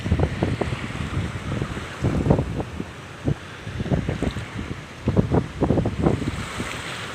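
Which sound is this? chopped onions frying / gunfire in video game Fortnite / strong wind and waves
strong wind and waves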